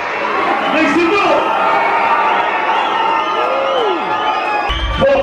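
A concert crowd in Pittsburgh cheering, whooping and shouting loudly and continuously, with individual yells rising above the roar, close and full.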